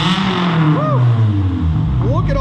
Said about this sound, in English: Give her a couple of revs, Mason.